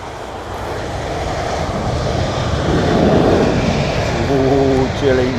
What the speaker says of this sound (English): The aircraft is now following a beam of light